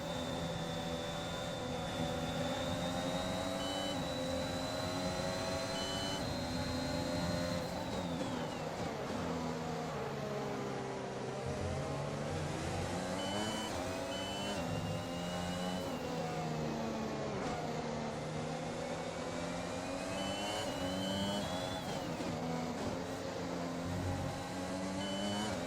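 F1 2021 race cars on the opening lap of a video game race, their high engine whine rising and falling with gear shifts, loud and continuous throughout with no talking.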